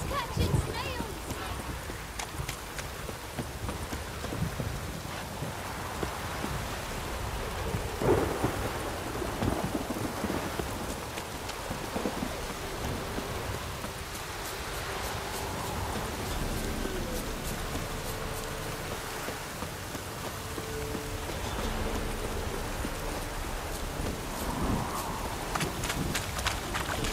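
Steady heavy downpour with rumbling thunder in the video game The Witcher 3: Wild Hunt, a constant wash of rain hiss beneath low rolls of thunder, with game sounds and voices faintly mixed in.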